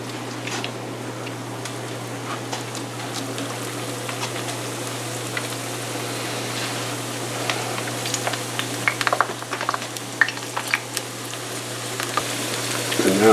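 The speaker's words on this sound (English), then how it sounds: "Now we fry them until they are golden brown and delicious." Latkes frying in a pan of hot oil give a steady, close sizzle with scattered pops and crackles that grow busier toward the end; no one speaks.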